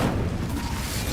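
The Incendio fire spell from Hogwarts Legacy goes off in a short, dense rumbling burst of flame, loud and close with a deep low roar that barely changes across its length.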